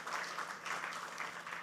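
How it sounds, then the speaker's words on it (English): Quiet, distant audience applause for a speaker at a banking and fintech panel event, a soft steady patter of many hands lasting under two seconds. "A huge round of applause to Mr. Rishi Gupta."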